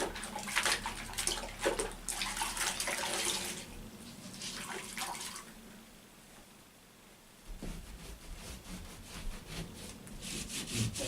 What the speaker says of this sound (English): Surprising how much dirt you can get off with just a warm damp cloth.